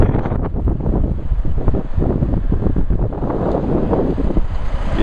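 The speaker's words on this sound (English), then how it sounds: "So I get to feel the wind and the snow on my skin" Loud, steady wind roars and buffets against the microphone outdoors during a blizzard, with gusty surging and no voices.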